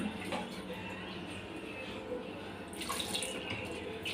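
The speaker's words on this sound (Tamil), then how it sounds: "இப்போ கொஞ்சம் தண்ணி ஊற்றிக்கலாங்க." Water poured onto washed lentils in a cooking pot for sambar, a steady close splashing pour that runs throughout and brightens into a louder, livelier stream near the end.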